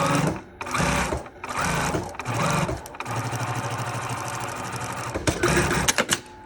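A sewing machine stitches along a folded strip of fabric to make string, running close and loud in short bursts with brief pauses between runs of rapid stitching.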